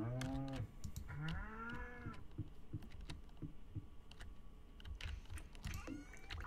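Cows in the farming video game Stardew Valley moo several times in a row, drawn-out game calls that stand clear over a soft background of light clicking and tapping.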